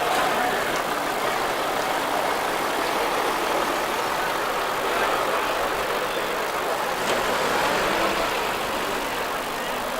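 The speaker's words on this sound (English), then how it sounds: "It's a Morris commercial owned by Barry Wheelwright from Hebden Bridge." A 1946 Morris Commercial vintage vehicle idles at a road run, its engine giving a steady, continuous mid-pitched rumble that holds even throughout.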